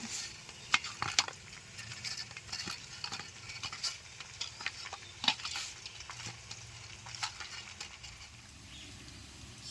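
Fried chicken pieces being mixed with turmeric and a cumin, coriander and dried red chilli paste in a pan, quiet repeated spatula scrapes and clinks over a faint sizzle, irregular and close.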